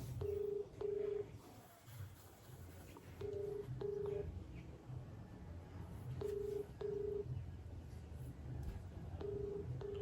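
Outgoing call ringback on an iPhone: paired electronic tones repeat every few seconds at moderate volume over faint room noise.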